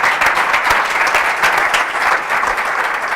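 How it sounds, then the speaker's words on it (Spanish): A live audience breaks into steady, dense applause, loud and close, sustained throughout with the scattered sharp claps of a crowd in a lecture setting. "Vamos a dar un aplauso a este señor que tiene una cara de ángel,"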